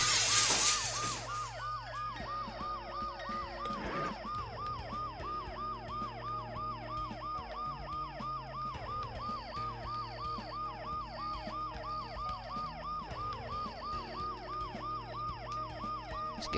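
A wailing ambulance siren in the Dead Synchronicity video game cycles steadily and loudly for the whole stretch, layered over a low droning game soundtrack, after a brief burst of noise at the start.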